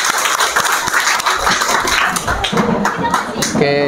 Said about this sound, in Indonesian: Terima kasih, tepuk tangan lagi.